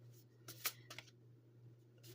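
A Crystal Oracle card deck is shuffled in a few quick, soft riffling bursts, close and quiet over a steady low hum, with no talking.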